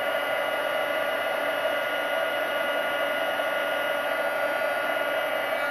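A heat tool used for heat embossing runs on high, melting embossing powder with a steady, loud whooshing blower hiss that holds unbroken throughout, with no voices.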